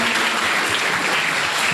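Students at a talk show with champions break into applause, a brief, dense, continuous burst of clapping from a room full of people, loud and even throughout.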